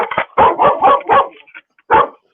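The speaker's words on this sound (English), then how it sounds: "That's the dogs eating the postman." Several dogs bark in a quick burst of sharp, loud woofs close by, followed by a short pause and one more bark.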